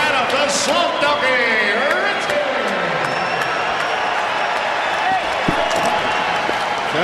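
Boxing crowd at a TKO win between Chazz Witherspoon and Adam Richards: loud, dense applause and cheering from a large arena audience, sustained throughout with shouts and whoops rising above it.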